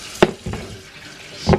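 Tap water splashing while potatoes are washed in a kitchen sink, with three short bursts of splashing and clattering separated by quieter running water.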